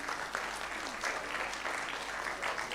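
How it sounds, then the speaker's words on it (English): An audience claps steadily to welcome Professor Sundara, a dense, even wash of many hands that stays moderately loud for the full few seconds with no voices over it. "You heard the claps, that shows the affection all of us have for you."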